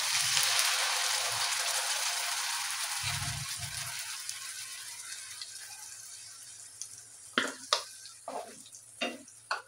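Ground masala paste for homemade chicken masala fries in a pan with a broad, hissing sizzle that gradually fades, broken by a few stirring scrapes and soft clinks near the end.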